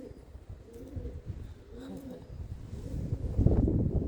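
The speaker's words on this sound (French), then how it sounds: "Ça roucoule là." Pigeon cooing from a hole in the stonework around Chartres Cathedral, repeated soft throaty coos over a low outdoor rumble, growing louder toward the end.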